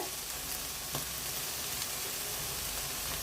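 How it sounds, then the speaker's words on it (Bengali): Papaya halwa is stirred in a pan, with a dense, steady hiss of sizzling and faint scraping under it, unbroken and close, and no voices. "এখন ভালো করে নেড়ে নিব।"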